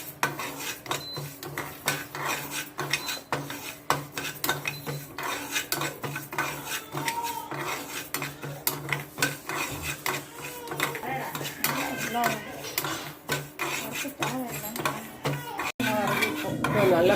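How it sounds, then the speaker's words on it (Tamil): Moong dal being dry-roasted and stirred in a pan for garlic powder, with busy metallic scraping and rattling of a spoon against the pan, continuous and close, under occasional faint background voices. "2 பூண்டுக்கு 25 கிராம் பாசிப்பருப்பை நல்லா வறுத்துக்கோங்க"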